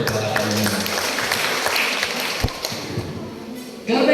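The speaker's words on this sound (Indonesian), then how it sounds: "Kasih tepuk tangannya untuk kakak ini." Audience applause fills a church seminar for Sunday school teachers, a steady broadband clapping that runs for several seconds and then thins out, with a brief tap and a voice coming in near the end.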